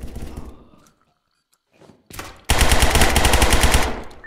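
Rapid automatic gunfire from the Zero Hour video game, a loud sustained burst of closely spaced shots after a few scattered earlier bursts and a short quiet gap.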